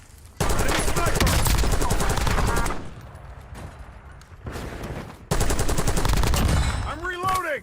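Heavy bursts of automatic gunfire ring out in Warzone, sustained volleys that stop, resume more quietly, then hit hard again, with a short electronic chirp at the end. Nothing is spoken in the clip.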